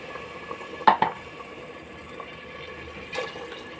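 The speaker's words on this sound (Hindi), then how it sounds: "मैं इसमें 3 गिलास पानी डाल दूँ।" Three measured glasses of water poured into a pot of pea biryani, with a couple of sharp splashing pours near the start and another splash later, over low kitchen background noise.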